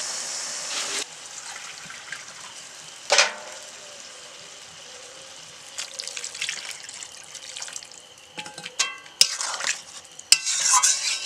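Mustard paste mixed with water poured into a frying vegetable curry and stirred, giving a sizzling wash of frying with scattered clinks and scrapes of the spoon, louder near the end.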